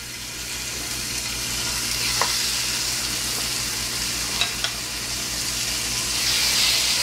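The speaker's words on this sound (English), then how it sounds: "In the same frying pan that we use to fry our bacon, we're going to go ahead and fry our chicken" Chicken fries in leftover bacon fat in a frying pan, a loud, steady close-up sizzle and crackle with a few sharper pops, no voices.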